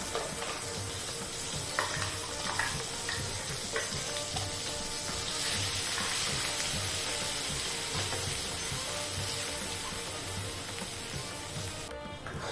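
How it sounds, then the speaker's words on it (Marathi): Ground masala paste for Marathi masvadi sautéing on a low flame, giving a steady, soft sizzle with light stirring and scraping throughout. "तर आपण हे जे वाटण करून घेतलेलं आहे हे सगळं याच्यात टाकायचं आहे मंद गॅसवर आपल्याला हे छान असं परतवून घ्यायचं आहे"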